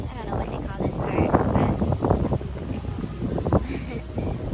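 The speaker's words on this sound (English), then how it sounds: "the sound on this clip was insanity, mostly because it was really windy" Strong beach wind roars and buffets the microphone in loud, gusty bursts throughout, with a voice talking underneath the rumble.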